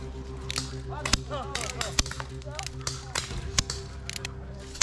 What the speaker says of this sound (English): Now, why'd you guys gotta open fire on us like that?